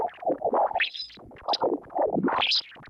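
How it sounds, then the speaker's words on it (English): Sonified solar wind, the stream of charged particles from the sun, comes through as warbling, voice-like whistles and swooping tones in short irregular bursts, moderately loud with brief gaps. "This is the sound of the solar wind."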